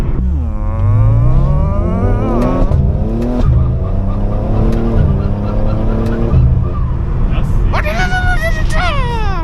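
A BMW G80 engine revs hard while driving, pitch sweeping up and down through repeated gear pulls, loud and close from inside the cabin, with people talking over it.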